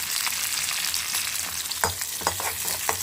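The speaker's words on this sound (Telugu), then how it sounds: "రెండు ఎండు మిరపకాయలు వేసుకొని ఫ్రై చేసేసుకున్నాము ఆయిల్లో అలానే కొంచెం అల్లం వెల్లుల్లి వేసుకొని ఫ్రై చేసేసుకోవాలి" Dry red chillies, ginger and garlic fry in hot oil in a pan: a loud, continuous sizzle with occasional stirring scrapes near the end, and no voices.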